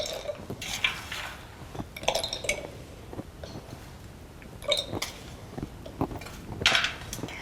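Toasted pecans, macadamias and hazelnuts tumble into a blender jar, scattered hard clinks and rattles against glass arriving in small bursts with quiet gaps between.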